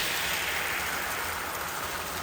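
Heavy rain pours down continuously, a dense, even hiss of drops on surfaces filling the whole stretch, steady and fairly loud with no voices.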